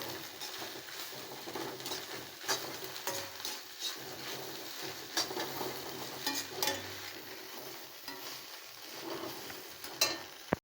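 Chopped carrots, beans and cabbage stir-fry in a pan for egg fried rice, giving a steady close sizzle broken by scraping stirs and light clatter, with no voices.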